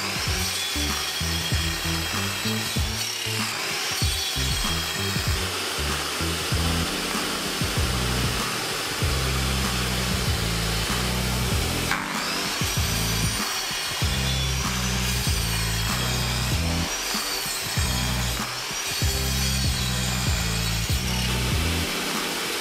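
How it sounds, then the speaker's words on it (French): A saw cuts steadily through wood along the lines of a paper template glued onto a dowel-jig workpiece, the rasping strokes continuous and close for the whole span with a brief pause near the middle. "je vais venir couper ici le long des lignes pour justement nettoyer déjà une partie"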